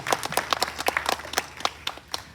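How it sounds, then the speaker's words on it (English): Short burst of clapping at the Cayce Legends Reception, individual claps clearly separated in an uneven rhythm, close and fairly loud, suggesting a modest group of hands rather than a large crowd. "let's all give them a great big round of applause"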